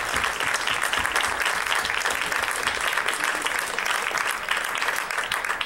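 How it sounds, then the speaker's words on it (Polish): An audience at the Skamander 2014 laureates' concert applauds steadily, a dense, even wash of many hands clapping that holds at full strength the whole time, with no pause. "Tak, to brawa, brawa dla starostwa powiatowego w Świdwinie."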